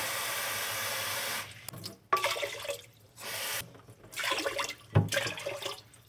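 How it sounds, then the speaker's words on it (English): Water pouring and splashing into a pot in a few uneven bursts, with brief pauses between pours, close by and moderately quiet. "So I'm going to add 3 cups water."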